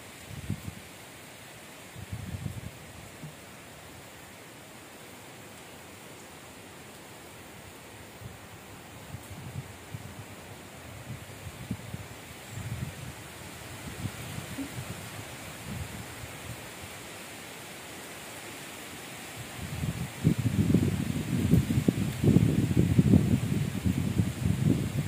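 A strong afternoon wind blows outdoors as a steady broadband rush, swelling into louder, closer gusts toward the end, with no voices.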